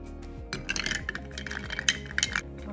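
A metal spoon clinks against a cup while stirring a heaping tablespoon of Javy coffee concentrate into liquid. It makes several quick, irregular, close-up taps and rattles with no talking.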